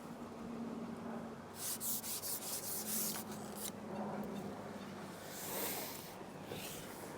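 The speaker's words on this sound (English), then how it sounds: "I'm actually pulling the elastic out the side of the pole." Light pole-fishing elastic being pulled out the side of a pole on a park lake, a close, dry rubbing and rasping that comes in short strokes, then a softer steady rustle, with no talk.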